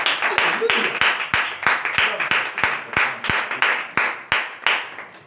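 A church congregation claps in unison, a steady run of about fifteen sharp, loud claps at an even rhythm, each ringing out briefly in the hall, with no talking over it.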